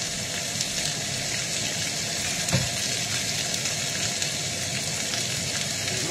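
Ginger and onion fry in a pan beside meat, producing a dense, constant sizzle with a watery hiss and one brief clatter midway; no one speaks.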